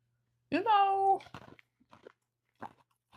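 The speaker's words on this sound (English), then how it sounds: "I'm anemic, so I chew on ice a lot." Ice cubes chewed close to a microphone: a loud, brittle crunch at first, followed by several quieter crunching bites spaced over a few seconds.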